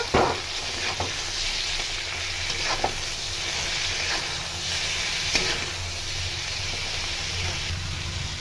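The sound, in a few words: okra frying in pan with salt, turmeric and tomato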